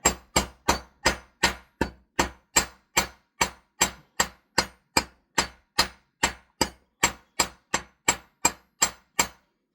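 Sharp metallic hammer taps on soft aluminum wire ring out in a fast, even rhythm, about two per second, close up and loud with no talking.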